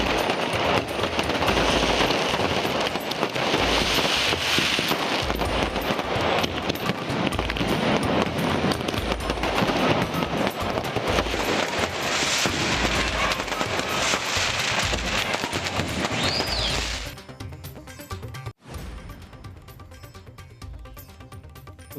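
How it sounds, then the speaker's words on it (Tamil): A dense, continuous barrage of firecrackers and aerial fireworks at an Ayyanar temple procession near Rajapalayam crackles loudly for about seventeen seconds, then drops away to scattered distant pops and a final sharp bang. "வானில் வர்ணஜாலம் காட்டிய வான வேடிக்கையை கண்டு ரசித்த மக்கள்."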